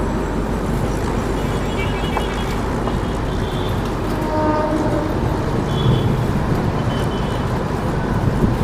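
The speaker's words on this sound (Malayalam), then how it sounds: "ട്രെയിൻ ഇപ്പം അങ്ങനെ സ്പീഡ് കൂടി വരുന്നുണ്ട്" A train running from Yesvanthpur toward Coimbatore near Bangalore rumbles steadily as it gathers speed, with continuous loud wheel-on-rail roar and clatter heard from on board and faint horn-like tones now and then.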